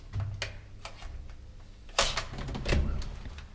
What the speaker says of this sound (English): Get the door for me.